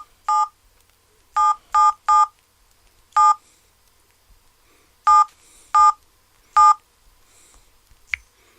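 Telephone keypad dialing tones: seven short, clear electronic beeps in an uneven rhythm, with pauses between groups and a faint click near the end, and no voices.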